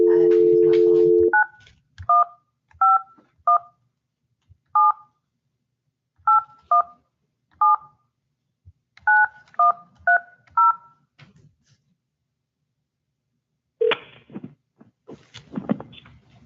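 Phone keypad tones on a mobile phone: a steady dial tone, then about a dozen short touch-tone beeps in irregular bursts, with faint talk and background noise at the end.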